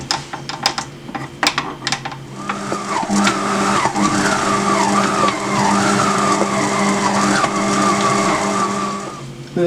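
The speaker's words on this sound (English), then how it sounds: "Then I'm going to use my beater." An electric hand beater whirs steadily as it mixes flour and butter for puff pastry, starting after a few sharp clicks and knocks, with the motor pitch wavering as the dough is worked, close and fairly loud.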